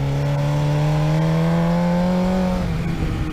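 A BMW S1000 RR 2020 motorcycle with a Power full exhaust, heard while cornering: a loud, close, steady engine drone that holds a high pitch and then drops off near the end, with no talking.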